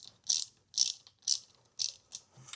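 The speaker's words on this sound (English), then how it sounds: "I'll put my wrench on the end here and then loosen that spark plug up" A ratchet wrench loosens the spark plug on a Honda Aquatrax F12X personal watercraft, giving five or six crisp, close ratcheting bursts in an even rhythm with short pauses between.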